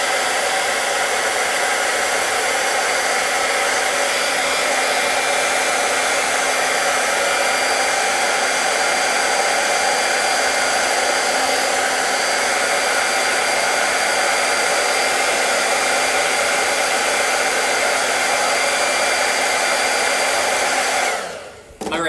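A handheld heat tool blows steadily to dry chalk paste, a continuous loud whooshing hum that holds for about twenty seconds before cutting off abruptly at the end.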